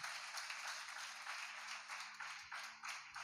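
A worship congregation at a Sunday service in Bethel prayer hall, Velanka, claps together in a rapid, fairly even rhythm, the clapping faint and distant throughout.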